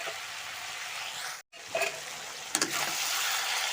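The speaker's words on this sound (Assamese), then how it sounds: "এতিয়া মাংসটো ভালদৰে ভাজি লওঁ" Chicken pieces fry in a hot pan for curry, a continuous loud sizzle with a short break and a few stirring scrapes, no voices.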